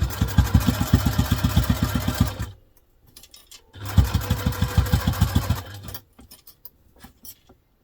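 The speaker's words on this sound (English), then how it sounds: "I'm going to take that to the machine. I'm going to stitch that down." A sewing machine stitches fabric for a diaper clutch in two fast rhythmic bursts of mechanical whirring and tapping, with a short quiet pause between them and a few soft handling clicks after.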